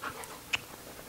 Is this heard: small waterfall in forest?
no